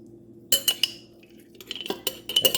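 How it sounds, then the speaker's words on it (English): A metal spoon scraping fat out of a cup, several sharp clinks and scrapes in quick bursts, close and clear with no talking. "I might need to get in there with a spoon as well"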